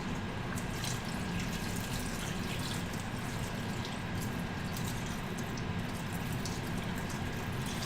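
Cold water poured steadily into a cold pan of vegetables while cooking turnips, making a continuous close splashing rush with no talking.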